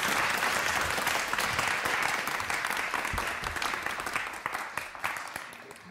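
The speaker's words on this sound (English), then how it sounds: "So I think we should give him a welcoming applause" An audience at a lecture breaks into steady, full applause to welcome a speaker, the clapping gradually thinning toward the end.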